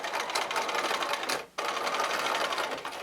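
A sewing machine stitches quilt pieces together in a fast, steady, close whirring run, breaking off briefly in the middle before starting up again.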